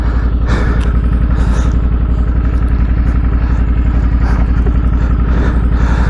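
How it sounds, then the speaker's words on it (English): A trail motorcycle engine runs close and loud in a steady, throbbing putter, with faint clattering ticks over the continuous engine note. "The bike fired up like nothing had happened."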